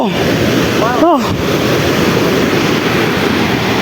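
Water crashes down a waterfall on a mountain trek near Darjeeling, a loud steady roaring wash that does not let up, with a brief whistle-like tone over it near the start.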